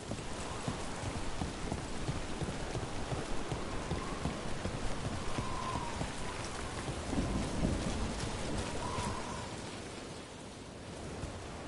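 Steady heavy rain in the video game Dragon Age: The Veilguard pours down continuously with a low rumble of thunder underneath, dense and hissing, easing slightly toward the end.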